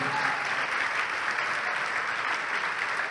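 Church congregation clapping in sustained, dense applause, steady and fairly distant throughout.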